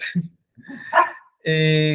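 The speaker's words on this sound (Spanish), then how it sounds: "Un segundo que mi perro empezó a ladrar." A pet dog barking at home during an online meeting, a few short yips and a sustained bark-like cry near the microphone, mixed with a voice.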